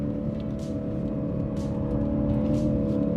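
Lexus IS 500 F Sport Performance V8 in Sport Plus mode, its engine droning steadily with strong low harmonics as it pulls from inside the cabin, a continuous loud tone with no talking over it.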